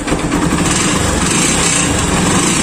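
A Honda TMX150 motorcycle runs close by with a loud, rattling, noisy engine, holding a steady, buzzing idle that fills the whole stretch without any break.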